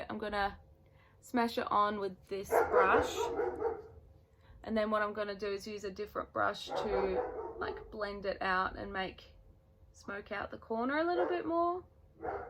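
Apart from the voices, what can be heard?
dog barking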